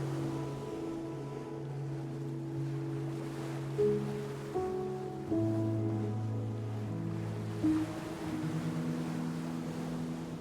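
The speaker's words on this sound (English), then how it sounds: "Hopefully the waves die down a bit today." Ocean waves wash steadily around a sailing boat in rough water, a continuous rushing surf with low tonal hum beneath and a few louder swells, no voices.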